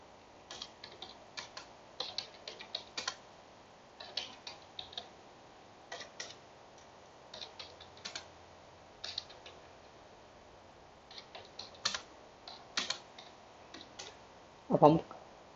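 Quiet keyboard typing of Java code, scattered irregular bursts of soft key clicks with short pauses between them, and one louder clack near the end.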